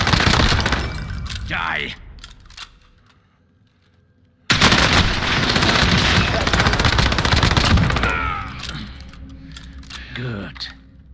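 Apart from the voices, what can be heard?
gunfire in a video game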